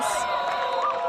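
Spectators cheer at a women's ultimate frisbee bronze medal match in Brisbane, with children among them, forming a steady, dense crowd roar with occasional higher whoops throughout.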